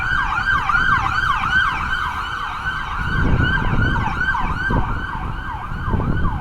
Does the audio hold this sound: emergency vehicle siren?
yes